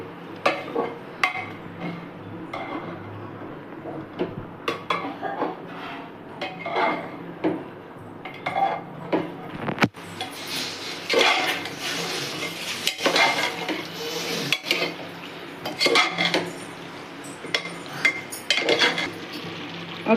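Ingredients being stirred and mixed together in a cooking dish, with a utensil clattering and scraping against the vessel in an irregular, busy rhythm that grows louder and denser partway through, close by and with no talk.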